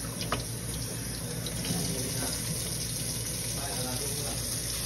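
Tap water runs steadily into a sink while fruits are washed, a continuous near hiss with faint handling sounds and a soft voice underneath.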